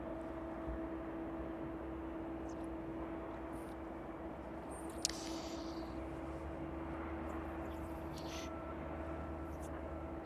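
A Learjet 45 on final approach into East Midlands Airport gives a steady, distant engine drone with a constant whine, heard continuously under faint outdoor background sounds.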